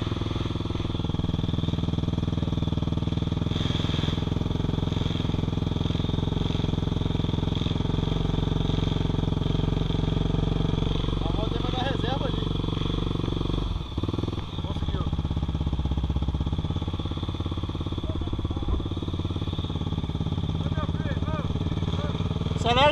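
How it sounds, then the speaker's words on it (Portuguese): Husqvarna dirt bike on a wet quarry trail after rain, engine idling steadily with a steady mechanical drone, occasional revs swelling near the middle, close and continuous under intermittent talk. "que eu não posso deixar a moto morrer, hein?"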